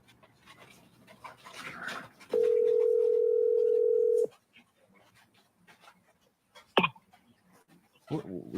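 A steady telephone dial tone hums loud and alone for about two seconds while a phone call is being placed, with some talk and a dog panting before and brief noises after.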